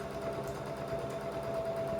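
A sewing machine runs steadily at an even pace while stitching a quarter-inch seam on a tree quilt, with a continuous close mechanical whir and fine rhythmic needle pulsing.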